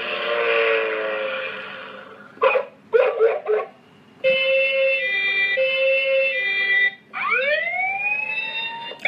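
Electronic vehicle siren sounds from a children's toy piano and drum table: a steady wailing tone, a few short bleeps, then a two-tone siren and a rising whoop, loud and synthetic.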